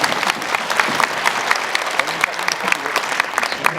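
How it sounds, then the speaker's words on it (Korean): A church congregation at a New Year thanksgiving service claps together for God, a loud, dense and rhythmic applause of many hands filling the room continuously, with a voice faintly present beneath. "우리 하나님께 박수로 영광을"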